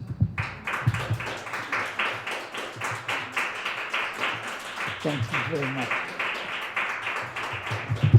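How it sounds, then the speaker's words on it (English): An audience at a poetry reading bursts into sustained applause, a dense, even wash of clapping from many hands that carries on for several seconds, with a voice speaking briefly over it. "Let's give her another round of applause for stepping right in"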